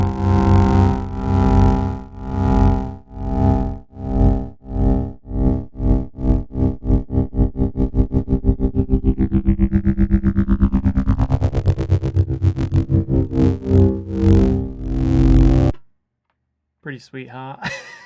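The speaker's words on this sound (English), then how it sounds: "this kind of tremolo effect that we're automating with the rate of the LFO here" A synthesizer pulses with a tremolo whose rate is changed by hand movement, the throbbing speeding up into a rapid flutter then slowing again, loud and alone, followed by a brief voice after it stops.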